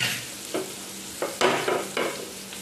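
Small river fish fry in hot oil in a home kitchen, a soft continuous sizzle broken by a few brief clatters and stirring knocks as the pieces are moved about, close by with no voices.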